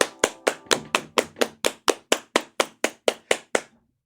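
A steady run of about fifteen sharp, evenly spaced claps rings out over roughly four seconds, each crisp and close, then stops.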